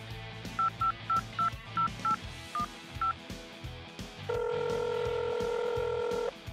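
A telephone keypad dials a number: a quick run of about nine short, evenly spaced beeps, then a steady ringing tone holds for a couple of seconds, quiet and close.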